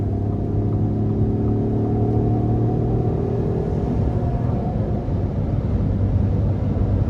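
A 2023 Ford F-150 Lariat PowerBoost hybrid pickup accelerates hard on the road, heard from inside the cab as a steady low engine drone and rising whine over road rumble, loud and constant with no talk.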